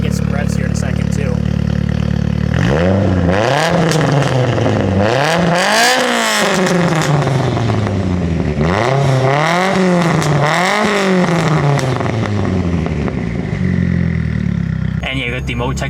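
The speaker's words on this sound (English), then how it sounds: "the idle sounds nuts. We're gonna get some revs here in a second too." Heavily tuned Mitsubishi EVO wagon engine with a lumpy, choppy idle, then several sharp revs climbing and falling back, loud and close, with people talking over it.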